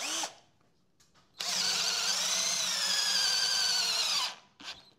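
A Titanium 12V cordless drill in drill mode runs for about three seconds at speed 2 with a steady high whine, starting abruptly after a quiet pause, then spinning down, followed by a short final burst.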